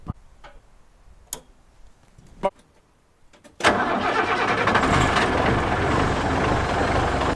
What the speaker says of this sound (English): Let me see if she'll crank.